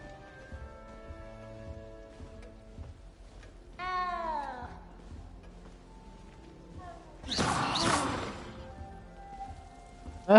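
A cat in the video game Hogwarts Legacy gives a clear meow partway through, followed later by a louder, longer rising cry over quiet background game music, with no talking.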